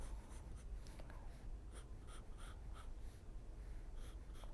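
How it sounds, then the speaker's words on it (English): Pencil sketching the curved handle of a mug on paper, a steady close scratching of graphite with repeated short strokes and brief lifts, continuous and fairly quiet with no voices. "And then I'm going to draw it in."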